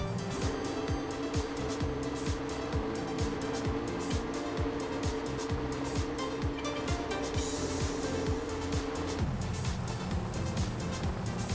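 A monster truck's engine drones steadily in the Poly Bridge 2 physics puzzle game, with a rhythmic mechanical clatter over the hum that changes pitch near the end.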